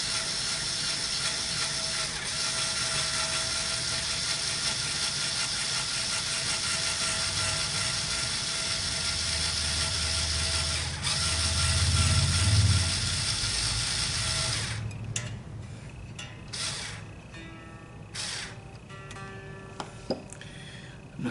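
A Stratocaster tuning post on a 1960 Strat turns while a guitar string winds onto it, a steady close ratcheting, clicking mechanical whir that runs on, then gives way to a few sparse knocks and handling sounds.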